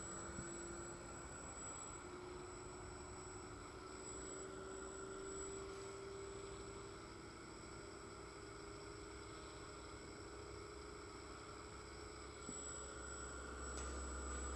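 A rotating machine on a two-plane balancing rig ramps up toward its target speed, giving a steady, continuous whir and hum with faint tonal whine, holding even and fairly quiet throughout with no talk.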